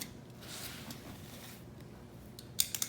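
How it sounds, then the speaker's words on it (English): A box knife slices open a cardboard gift box with a soft, steady scraping drag, ending in a few crisp snapping cuts, heard up close with no voices. "He's opening the box. Using proper technique with the box knife, cutting away from himself."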